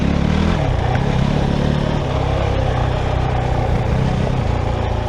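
A Kove 450 Rally motorcycle under light throttle during break-in rides a mountain road, its engine a steady close drone buried in heavy rushing wind noise, continuous throughout.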